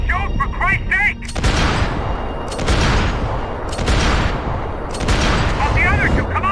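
Heavy sustained gunfire in a Max Payne 3 firefight, loud close bursts and booming shots nearly continuous throughout, with someone shouting over the shooting.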